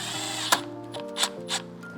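A power drill drives screws back into a 2019+ Mercedes Sprinter van, with a few short, faint motor whirs and spaced clicks in a quiet space.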